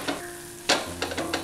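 A dry Kerala-style shrimp, coconut and tamarind mixture is stirred in a hot pan, with quiet frying hiss, a sharp spoon scrape, and several short scraping strokes close up, no voices.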